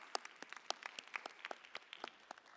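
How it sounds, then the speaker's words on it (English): A crowd applauding, scattered claps forming a steady patter throughout, moderately distant and fairly quiet, with no one speaking. "We can join them and give them a round of applause."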